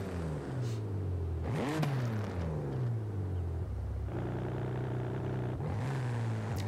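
BMW M4 Competition (2021, 900 hp) engine revving in Forza Horizon 5, played with a steering wheel, repeatedly climbing and dropping through gears, loud and continuous with rising pitch sweeps and shifts.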